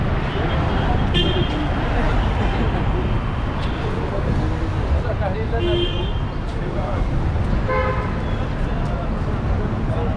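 Busy street traffic in Cairo near the Khan el-Khalili bazaar, a constant loud roar of engines with several short car horn toots scattered throughout, close and continuous.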